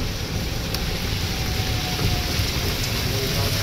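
Heavy typhoon rain pours down in a steady, dense roar that fills the whole clip, with a faint rumble underneath and no pauses.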